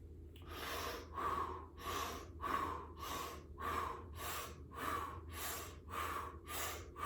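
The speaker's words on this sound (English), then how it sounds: "So as we increase the speed of our mouth breathing," Fast rhythmic mouth breathing during a tantra breathing exercise, about a dozen strong, evenly paced breaths at close range, each a rushing, airy puff with no talk.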